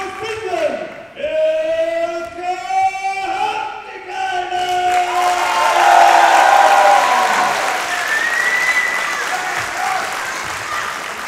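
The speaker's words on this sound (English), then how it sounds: "I don't know if you can hear it, but there's a thunderous round of applause for Ilkka" A loud crowd at a historical fencing tournament roars and applauds, voices shouting over continuous clapping that swells and holds, with an announcer's voice heard at the start.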